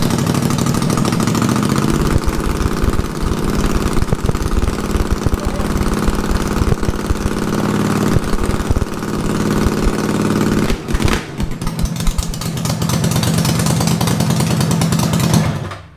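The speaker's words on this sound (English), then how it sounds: "Let's try starting it." Racing lawn mower engine cranking, catching and settling into a rough, choppy idle, loud and close with uneven sputtering pulses and a brief stumble before steadying again.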